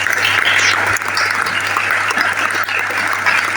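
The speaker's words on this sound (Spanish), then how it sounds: "Le damos un fuerte aplauso." Audience applause closing an economics discussion event, a dense steady clapping that fills the whole stretch at even loudness, with a low constant hum underneath.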